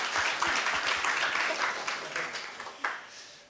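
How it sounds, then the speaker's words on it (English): Moderate applause from a conference audience at the European Youth Energy Forum panel, steady clapping that gradually thins and fades toward the end, with a final stray clap. "Applause"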